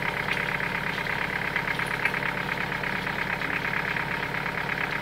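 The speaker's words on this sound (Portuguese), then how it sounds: "O barulho dessa caminhoneta é muito forte, né? A pancada, motor bruto" A 1995 Mitsubishi Pajero's 4M40 diesel engine, suspected of a blown head gasket, idling with a steady rough knocking clatter, close and continuous without talk.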